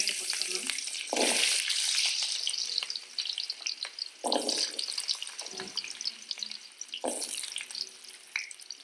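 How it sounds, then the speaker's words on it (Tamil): Onions frying in oil for pirandai thuvaiyal: a bright, loud sizzle close up, broken by several bursts of stirring and spoon scrapes at roughly regular intervals, with the crackle surging after each stir. "அந்த எண்ணெயிலையும் வெங்காயத்தை போட்டுக்கலாம்."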